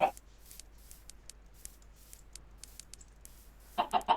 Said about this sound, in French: j'ai mes 3 poules qui me suivent